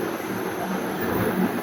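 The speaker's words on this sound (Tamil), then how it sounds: "ட்ரெயின் போகிறது நல்லா தான் இருக்குது." A train rumbles steadily across the Pamban bridge, a loud continuous roar of wheels and carriages heard up close without a break, with no talking.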